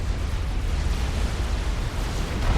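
Rumbling explosions from bombing runs in Supreme Commander 2, a continuous dense roar of overlapping low blasts, steady and heavy for a few seconds with no voices over it.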